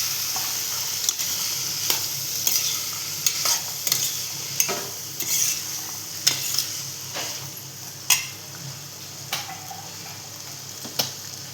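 Peanuts, field beans and carrots stirred together in a frying pan, with a steady close sizzle broken by irregular scraping and tapping strokes of the spoon against the pan, no voices.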